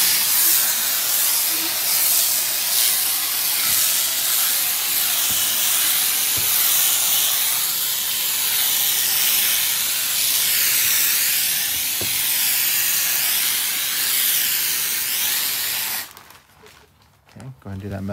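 Spray gun hissing steadily as a thin coat goes onto the metal centerpiece inside a Silversides bus being converted to an RV, a continuous close, loud airy spray lasting most of the stretch before cutting off near the end.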